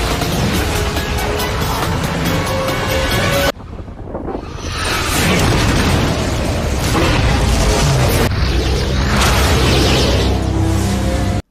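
A missile in DCS World detonates inside a mountain in a penetration strike, a loud rushing roar cut by a sudden deep boom, followed by a long rumbling, wind-like wash of noise that carries on steadily.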